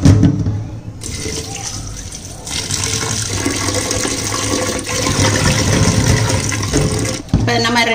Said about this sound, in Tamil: இப்போ திருப்பி நம்ம இதை அலசிட்டு திருப்பி நம்ம வடிகட்டிக்கிறோம் தண்ணியை.